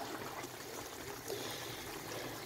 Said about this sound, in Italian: Questo continuo sempre a cucinarlo a fiamma alta, perché così quest'acqua si asciuga meglio